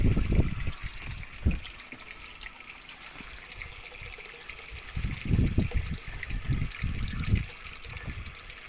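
A cheap Aldi pond pump runs in a garden pond, sending water trickling and splashing steadily, with a few louder gushing surges and a constant hiss behind them.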